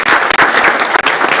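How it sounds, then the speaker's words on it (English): Loud, close applause from a graduation audience, a dense burst of clapping with brief dips, no speech. "A better round of applause"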